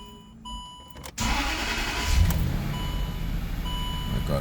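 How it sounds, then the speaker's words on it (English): A 2006-2007 Land Rover engine cranks and catches after a short pause, then settles into a steady, moderately loud idle rumble close by, with no voices. "My car is start."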